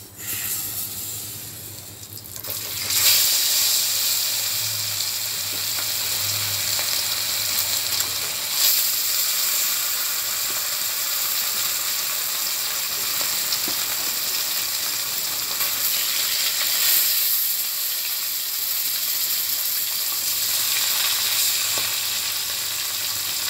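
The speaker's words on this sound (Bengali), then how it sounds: "এবার আমি মাছগুলো ভেজে নেব।" Fish frying in hot oil in a pan, a steady loud sizzle and crackle running throughout with occasional sharper pops, no voices.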